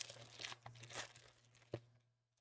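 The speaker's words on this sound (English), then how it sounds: "So start munching on these oregano dusted potato chips" Close, crisp crunching and crinkling bursts, like chewing crunchy chips, several irregular crunches then fading quiet.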